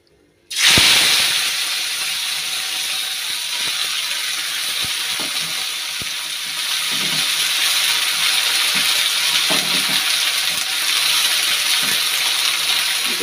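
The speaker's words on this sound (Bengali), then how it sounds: "এই যে তো এটা ভাজবো এখন। তেল দিয়েছি, এখন বসিয়ে দেবো এটা।" Spring onion stalks, tomato and green chilli sizzle in hot oil, a steady loud hiss starting abruptly and continuing throughout, with occasional soft clicks and pops.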